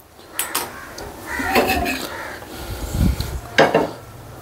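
Clanks and scrapes of a cast-iron dosa pan being set on a home stove, a few sharp metallic knocks spread over a few seconds, close and moderately loud.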